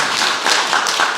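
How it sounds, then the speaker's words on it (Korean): Church congregation clapping in thanks at the close of a Sunday morning worship service, a short steady burst of dense, close hand claps with no talking. "박수로 고맙다고."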